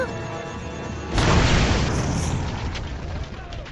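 A bomb blast from the 2008 action film The Shepherd, a sudden loud boom that erupts after a short lead-in and then rumbles and decays over the next couple of seconds, with movie sound around it.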